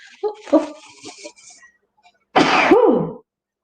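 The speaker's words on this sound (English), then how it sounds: "Oh, about to sneeze." A few sharp breathy catches build up, then a single loud, explosive sneeze bursts out close by.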